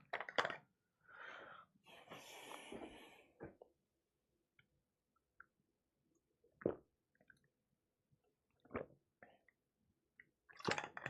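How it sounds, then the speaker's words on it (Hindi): Someone takes a drink of water partway through a chemistry lesson: a few close breathy gulps and a gasp at the start, then sparse soft clicks and mouth sounds in near silence, with no talk. "मैं पानी पीता हूं फिर आगे बातचीत करते हैं"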